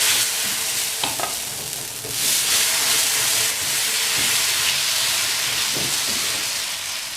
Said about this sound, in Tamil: இப்போது தோசையை ஊற்றிடலாம்.